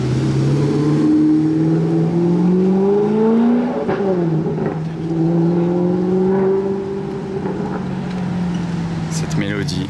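Ferrari F50 engine revving as the car pulls out in Monaco, a loud, sustained rising and falling engine note that swells, dips briefly, then climbs again, with crowd noise around.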